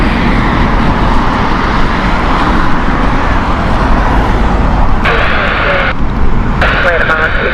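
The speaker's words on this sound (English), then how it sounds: "That was the Londonderry flight from Logan Air." Logan Air aircraft on the Londonderry flight at Heathrow Airport, a loud, continuous jet engine roar filling the whole stretch, with faint radio chatter breaking in near the end.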